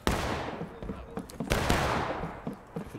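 Musket volley fire in the War of Rights video game, a rapid string of overlapping loud gunshots with sharp cracks and rolling echoes, near and far, continuing throughout.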